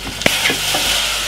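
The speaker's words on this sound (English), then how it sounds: "So the vegetable, 3 to 4 minutes, fry it up, and then add your nice lovely callaloo right over here." Vegetables and callaloo frying and being stirred in a pan, a loud steady sizzle with a few sharp utensil scrapes near the start.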